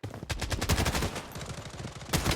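Rapid automatic gunfire in the video game Blood Strike, a dense close burst of shots that pauses briefly and then resumes.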